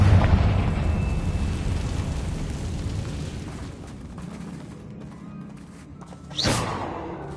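A Confringo blasting spell explodes in Hogwarts Legacy, with a heavy boom and a rumbling tail at the start, then another sharp, loud blast near the end.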